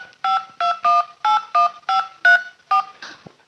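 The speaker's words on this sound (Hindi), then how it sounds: "तुम तो फोन लगाओ ना उसे।" A telephone number is keyed in as a quick run of about nine evenly spaced dial-tone beeps, clear and close, with no other sound around them.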